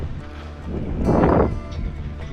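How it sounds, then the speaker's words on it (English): Steady outback wind at a campsite buffets the microphone with a low rumbling roar that swells briefly in the middle, with no voices. "It's a bit windy."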